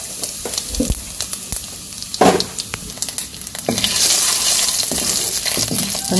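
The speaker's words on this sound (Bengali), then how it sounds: "তেলের মধ্যে জিরা দিয়ে দিলাম" Cumin seeds and vegetables frying in hot oil in a simple village kitchen, a steady loud sizzle with intermittent stirring clatters and a brief louder burst as ingredients hit the pan.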